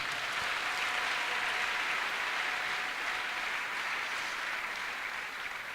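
Congregation applauding inside a church during a sermon, a steady dense wash of clapping that holds evenly throughout at moderate loudness with no talk over it.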